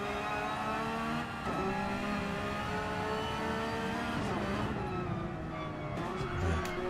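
Porsche, BMW and Ferrari race cars circle the Nürburgring Nordschleife, their engines holding a steady high-pitched drone that shifts pitch as they change gear and rev, loud and continuous throughout.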